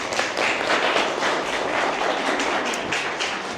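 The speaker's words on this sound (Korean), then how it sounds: "네, 박수로 환영할까요?" Congregation applause at a Korean workplace worship service welcoming the pastor to the pulpit, a dense steady roar of many hands clapping together throughout, fairly loud and even with no speech over it.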